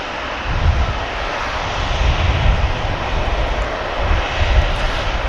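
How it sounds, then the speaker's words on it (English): A TUI jet airliner departs Manchester Airport, its engines a loud, broad, sustained roar that holds steady across the whole stretch with no voices over it. "they're on the TUI on the outbound now"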